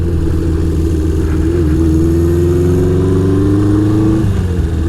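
Steady, loud engine drone of a 1975 Honda CB550 motorcycle at road speed, a smooth continuous hum that rises slightly in pitch before dipping near the end, with no talk.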